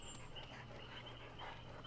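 A dog in the game Dead by Daylight pants softly with faint whimpers over a steady low hum and background game ambience, quiet and brief.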